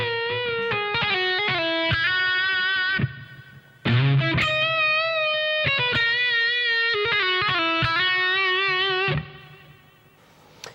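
A distorted electric guitar plays a slow solo phrase of sustained notes and bends from a song, with a brief gap partway and a fading final note, alone and close.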